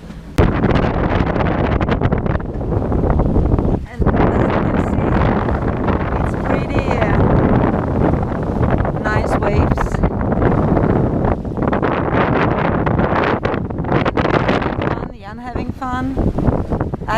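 Strong wind buffets the microphone on a sailing boat moving at nearly seven knots, and water rushes against the hull. The roaring, gusty noise stays loud and continuous, and people talk over it.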